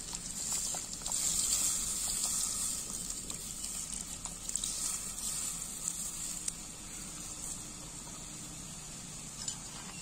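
Tamarind water poured into a simmering dried-anchovy kuzhambu on an outdoor village fire gives a steady sizzling, bubbling hiss with faint trickling, close and continuous throughout, with no one talking.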